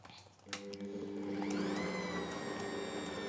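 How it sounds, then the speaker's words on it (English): A stand mixer whisks egg and sugar for Swedish semla buns, starting with a clack and then a steady motor whine that ramps up and holds, close and continuous, with no talking. "I'm going to whisk together egg and sugar in our mixer"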